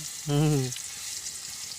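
Garlic and chili paste sizzles steadily in hot oil as a snack is cooked, a close, constant hiss with a brief tonal vocal sound near the start.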